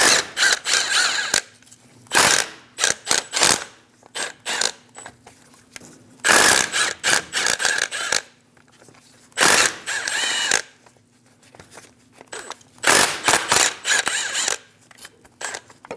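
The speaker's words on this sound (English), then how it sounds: "Using a 15mm socket, we're going to remove all of the bolts for the axle." A ratchet fitted with a 15mm socket removes the front axle bolts on a 2001-2006 Chevrolet Silverado 2500 HD. Close, loud bursts of rapid clicking repeat with short pauses between them, and no one talks.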